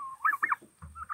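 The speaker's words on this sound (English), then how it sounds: "Not too happy with the rooster right now." A rooster calls near poultry netting, a short burst of raspy crowing notes with a brief pause between them, fairly close and heard alone.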